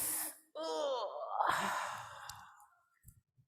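A person imitates a yawn with one long, drawn-out, voiced breath that rises and then fades into a sigh, followed by a few faint breaths.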